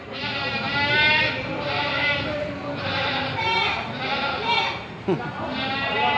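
Many goats bleat on a livestock farm at a goat market, a dense chorus of overlapping wavering cries rising and falling, close and loud.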